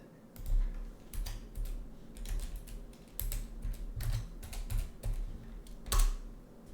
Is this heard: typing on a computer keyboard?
yes